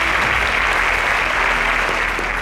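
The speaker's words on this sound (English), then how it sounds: "A round of applause." An audience at a competition show applauds loudly and densely throughout, a continuous wash of many hands clapping with no talk over it.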